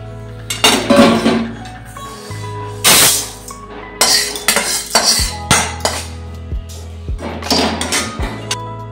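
Fried moong dal is transferred into a bowl with metal spoon scrapes and sharp clinks of dishes and pans. The clatter comes in close, loud bursts with short pauses between them, and no talk is heard.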